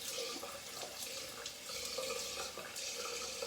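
Tap water running steadily into a sink while a face is rinsed after a shave, close and continuous, with splashing bursts from hands and water at the face.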